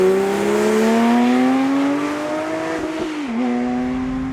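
A Porsche 991 Speedster's 4-litre flat-six engine from the GT3 revs while driving, a loud, close, rising tonal howl that climbs steadily, then dips briefly and resumes, with no speech over it.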